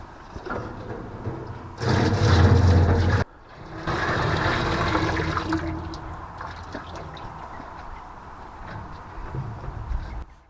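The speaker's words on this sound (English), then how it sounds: "I will start to fill this from the hot tap" Water from a hot tap gushes into the tank of a steam wax melter in a loud burst that stops abruptly, then flows again more softly and fades into a quiet trickle.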